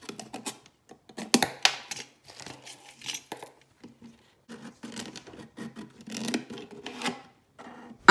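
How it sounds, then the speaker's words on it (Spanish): A utility knife cuts the neck off a plastic bottle, producing scattered close scraping and rasping bursts with quiet pauses between strokes, and a sharper crackle of plastic near the middle. "Le voy a quitar la boca de la botella ayudándome de un cúter."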